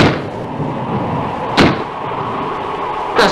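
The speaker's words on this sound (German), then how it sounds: "Irgendwo ist sicher eine Tür aufgesprungen." A door bangs open in the wind in a 1959 German crime radio play, with a loud thud at the start and two more sharp knocks over a steady, rushing wind.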